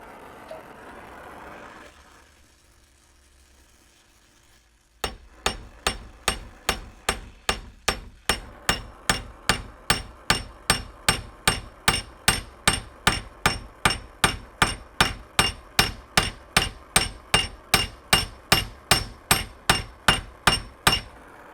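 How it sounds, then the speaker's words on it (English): A larger hammer strikes hot metal on a vise top while metalworking a Beretta Silver Hawk shotgun part. After a quiet start, about forty sharp, ringing blows follow in a steady, even rhythm, loud and close. "We'll switch to a larger hammer here."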